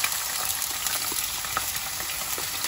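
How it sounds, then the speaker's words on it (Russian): Steady hiss and crackle of shrimp frying in hot oil, continuous and close, with a few sharper pops and no talking. "И быстренько-быстренько их обжариваем."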